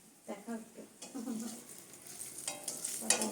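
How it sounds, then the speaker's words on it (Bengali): Pointed gourd (potol) slices sizzle in oil in a pan while being stirred, a steady soft frying hiss with scraping strokes, faint talk in the background. "আর এই যে পটল ভাজছি, দেখা একটু"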